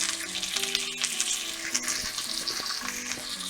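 German beef rouladen browning in a frying pan, heard as a steady close sizzle and crackle under scattered clinks and faint tonal kitchen sounds, with no talking.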